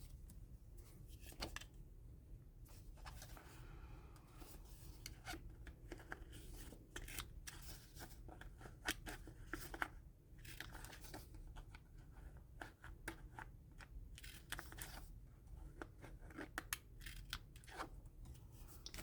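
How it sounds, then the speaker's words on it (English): Scissors snipping the corners off paper for a craft project, a close, quiet series of crisp cuts and rustles in a steady irregular rhythm, with no talking. "So I think what I'm going to do is cut the corners."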